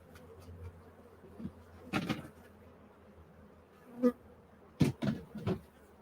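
Honey bees buzz steadily while honey is harvested, a soft continuous drone broken by a few louder close passes and knocks as frames are handled.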